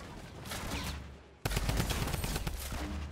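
Rapid bursts of drum gun fire in Fortnite Battle Royale, a loud sustained fusillade of close gunshots after a brief quieter moment, with little talk over it.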